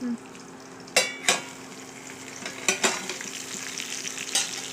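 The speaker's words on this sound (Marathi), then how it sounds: "गॅस एकवर करून आपण याला डबेपर्यंत फ्राय करू देणार आहोत मधून मधून याला हलवायचं आहे" Salted, turmeric-coated bitter gourd frying in a pan over a gas flame, a quiet sizzle broken by several sharp scraping stirs of a spatula.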